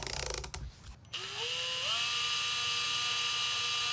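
A power drill twisting wires whirs up to a steady high-pitched spin after a few clicks and handling noises, running continuously close by.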